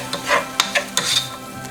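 Macaroni chilli pasta sautéing in a pan with soy sauce and tomato ketchup, brief close scrapes and stirring clatters of a utensil against the pan over a soft sizzle.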